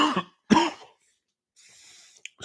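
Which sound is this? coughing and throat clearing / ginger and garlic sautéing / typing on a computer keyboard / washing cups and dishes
coughing and throat clearing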